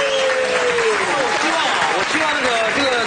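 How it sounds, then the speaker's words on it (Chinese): A studio audience bursts into applause for a talk show guest, a dense wash of clapping throughout while a host's voice carries over it with rising and falling speech. "我们大家给小刚掌声鼓励"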